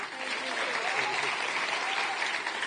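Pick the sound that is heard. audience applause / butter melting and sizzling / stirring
audience applause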